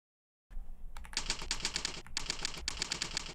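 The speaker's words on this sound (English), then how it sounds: "Let's do a 1-minute typing test." Rapid clattering keystrokes on a computer keyboard during a one-minute typing test, close and crisp in dense bursts with short pauses, starting after a moment of silence.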